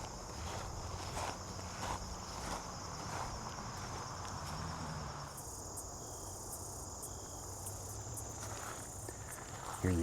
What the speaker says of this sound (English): Here are the insects.